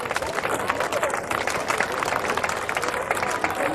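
Spectators at the 1988 World's Strongest Man contest clap steadily, a dense, loud crowd applause with rhythmic hand claps and a murmur of voices beneath.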